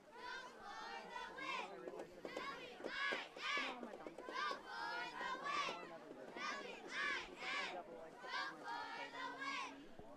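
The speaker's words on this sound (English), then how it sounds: "So can you hear the cheer team down there?" A youth cheer team chants in rhythmic, shouted bursts at a mosquito-level championship football game between the Cumberland Panthers and Kanata Knights, with many young voices in unison, moderately distant.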